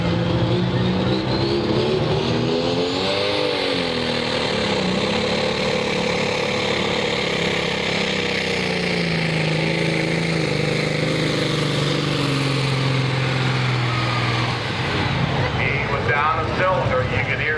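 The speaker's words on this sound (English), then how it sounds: "Down a cylinder, you could hear it down there as soon as he brought the RPMs up." A loud, rough-running pulling tractor engine, down a cylinder, revs steadily near the listener at a truck and tractor pull, its uneven pulsing note rising and falling, with crowd voices faintly beneath it.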